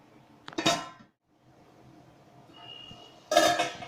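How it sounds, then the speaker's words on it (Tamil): A metal lid set onto a pot of chicken biryani, two clattering clanks of metal on metal separated by a quiet stretch of low kitchen hum, close by. "நம்ம மூடி வச்சிடலாம்."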